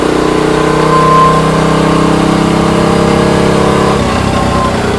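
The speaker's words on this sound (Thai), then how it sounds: "อันนี้ท่อผ่านะครับเสียงก็จะแบบกรุ๊บกรุ๊บกรุ๊บกรุ๊บหน่อยนึงนะฮะ" Honda Wave 125 motorcycle fitted with a modified straight-through exhaust pipe, idling close and loud with a steady throbbing burble, briefly rising in pitch and then settling.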